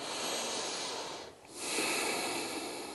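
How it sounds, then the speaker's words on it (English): A person breathes deeply during a stretching exercise, with two long, breathy exhales separated by a short pause, close and fairly loud, with no speech. "Breathing."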